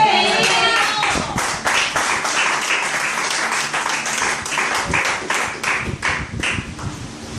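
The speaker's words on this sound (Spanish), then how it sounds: "Yo creo que eso merece un aplauso." A church congregation applauding during an evangelical sermon, a dense round of clapping from many hands that rises and thins over several seconds, with faint voices mixed in.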